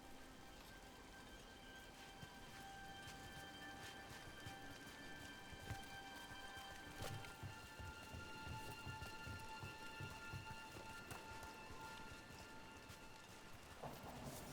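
Rain in the video game Dragon Age: The Veilguard, a continuous steady downpour with patter on surfaces and a low rumble of thunder, alone without talk.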